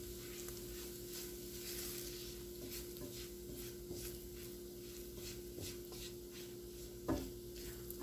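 A spoon stirs a sausage gravy roux in a pan over medium heat, a soft steady scraping and faint sizzle continuing throughout at low level, with a brief louder clink near the end.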